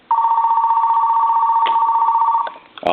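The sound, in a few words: two-line telephone ringing on line 1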